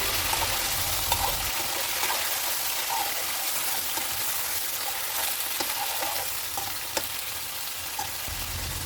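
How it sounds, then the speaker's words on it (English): Mutton pieces sizzling in hot oil over high flame for Kolkata biryani, a loud continuous crackling fry with occasional clinks and scrapes as the meat is gently stirred. "We'll just give this mutton a gentle mix in the oil."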